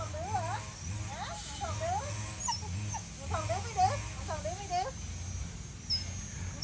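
Dog whimpering at a house build site in Thailand, repeated high wavering whines in bursts, fairly close, over a low steady background hum.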